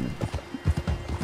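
A horse in Red Dead Redemption 2 crossing water with a tied passenger, hooves clip-clopping in a quick uneven rhythm with a short whinny mixed in, close and moderately loud, no talk over it.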